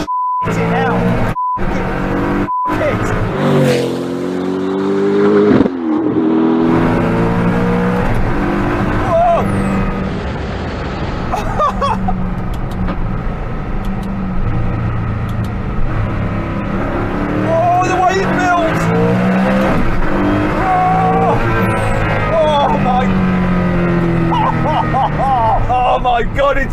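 A Hennessey Venom supercar pulls hard in second gear, its engine note climbing loudly and continuously with rising harmonics, while a voice talks over it.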